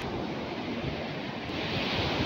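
Sea waves wash steadily onto the shore, a continuous loud rush of surf with wind noise buffeting the microphone.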